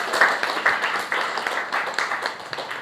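A classroom of students applauding a classmate, a short burst of scattered hand claps with uneven rhythm at moderate distance.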